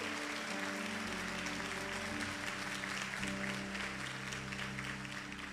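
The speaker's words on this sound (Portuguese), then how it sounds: "Você pode aplaudir o Senhor, o faça com alegria." Worshippers in a church applaud together, a steady wash of clapping over held keyboard chords, fairly quiet and distant.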